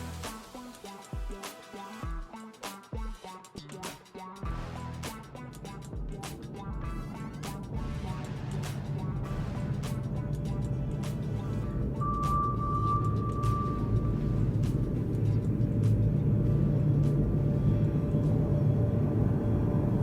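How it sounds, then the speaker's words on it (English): Ambient noise in a pitch-black room at the Alien Art Centre in Kaohsiung: a few sharp knocks and clicks at first, then a low, steady rumbling hum that swells and fills the space, with a brief thin tone partway through. "The sound you hear is the ambient noise in a room at the Alien Art Center of Kaohsiung"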